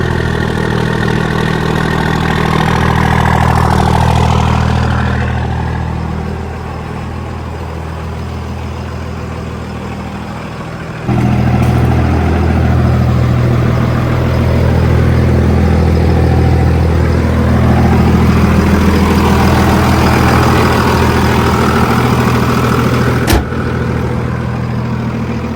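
A Cummins diesel truck engine idles steadily at close range, a constant low rumble that shifts slightly in pitch partway through and runs on alone without talk.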